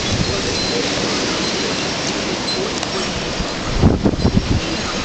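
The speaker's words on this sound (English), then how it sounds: "You hear the trees? When you hear the trees, you can see the wind." A wind storm roars through trees in Austin, Texas as a broad, constant rushing wash with a stronger gust near the end, loud and enveloping.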